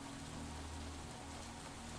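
Rain falls in the farming video game Stardew Valley as a steady, soft, even hiss that stays unchanged throughout, faint and continuous, with no talking.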